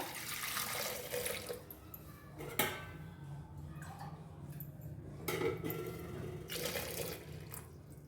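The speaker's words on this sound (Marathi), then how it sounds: "कुकरमध्ये आपल्याला हे बटाटे" Water runs and splashes into a pressure cooker holding potatoes, a soft continuous pour with a couple of knocks and clinks of the pot, faint and close.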